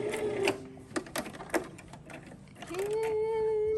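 A sewing machine makes short bursts and then a steady whirring run while back-stitching on a fabric head wrap, with a person talking quietly nearby.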